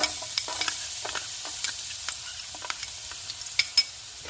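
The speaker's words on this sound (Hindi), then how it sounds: "ऑयल गर्म हो गया, इसमें चॉप किया हुआ लहसुन डाल देंगे" Steady hiss of chopped garlic frying in hot oil, with small crackles and pops scattered throughout and a few louder spits near the end.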